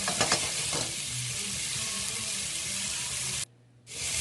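Salisbury steak patties sear in hot vegetable oil with a steady, close sizzle and crackle. A few utensil scrapes come early, and the frying cuts out briefly near the end before resuming.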